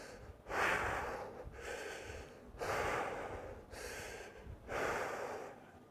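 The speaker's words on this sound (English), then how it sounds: "So, you can just bust out a few squats," Heavy, rhythmic breathing after a set of squats, close and loud, four or five long gasping breaths in steady succession with no talk.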